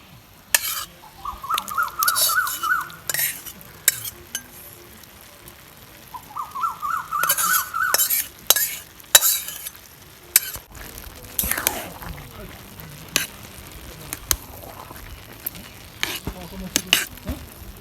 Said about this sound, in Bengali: চালটা আদা পুরো হয়েছে এখন আমি চিকেন দিয়ে দেবো